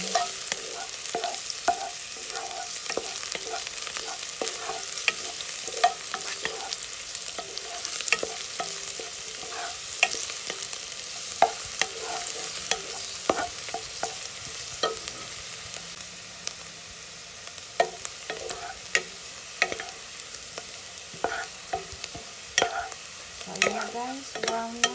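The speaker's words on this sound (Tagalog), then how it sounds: "So start frying the onions, the garlic, and the ginger, guys." Onions, garlic and ginger frying in a pan for chicken binakol, a steady close sizzle broken by frequent sharp clinks and scrapes of a utensil stirring against the metal.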